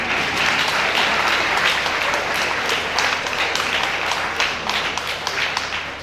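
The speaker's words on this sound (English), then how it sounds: "so if you want to clap, do it well." A congregation at a funeral service breaks into sustained, dense applause, many hands clapping steadily for several seconds, loud and close, filling the chapel and slowly tapering off at the end.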